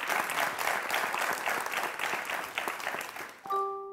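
Studio audience on a TV quiz show claps steadily in a sustained burst of applause, then it stops abruptly as a short electronic tone sounds.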